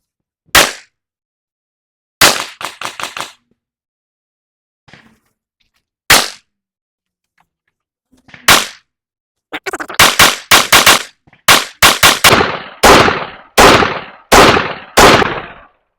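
Gunshots from reliability testing of a PSA Rock pistol: loud, sharp reports, first spaced singles and a quick cluster, then a rapid, nearly regular string of shots close to the listener.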